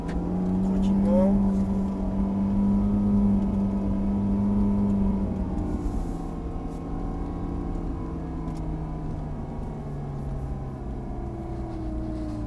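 A Ferrari 458 Italia creeps along slowly, its engine giving a low, steady hum with gentle rises in pitch as it pulls away, heard from inside the car without any talk.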